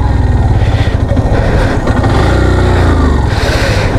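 A motorcycle stuck off-road in Ladakh roars steadily near and loud, its engine revving hard without pause for several seconds, no voices over it.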